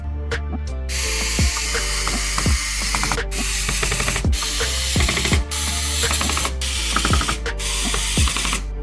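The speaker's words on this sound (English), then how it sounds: "let's put all the screws back" Screws are driven back into a Lenovo ThinkCentre all-in-one PC with a powered screwdriver, giving a series of whirring bursts and ratcheting clicks, each separated by brief pauses, close up and alone.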